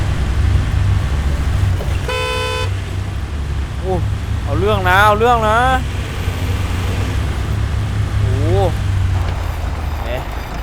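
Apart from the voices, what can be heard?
Isuzu four-door pickup engine in SnowRunner video game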